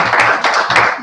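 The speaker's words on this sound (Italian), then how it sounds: "un applauso a Cosimo" Audience applause fills the room at a national assembly, dense clapping from many hands, close and loud, continuing steadily with no talk over it.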